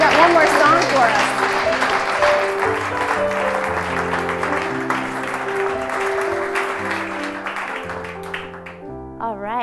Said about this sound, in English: Everyone, let's give him a big round of applause.